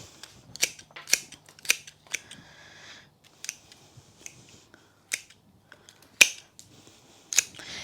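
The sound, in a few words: scissors cutting flower stems for a dahlia bouquet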